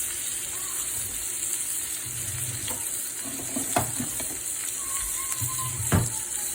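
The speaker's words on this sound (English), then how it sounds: "it on the cast iron griddle and give it a good sear with butter" Tomahawk steak searing in butter on a cast iron griddle, a steady hiss of frying with occasional sharper crackles and pops and a couple of brief scraping knocks, close up, no talking.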